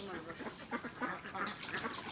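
Domestic ducks at a village home give a quick, close run of nasal quacks, several birds calling over one another for about two seconds.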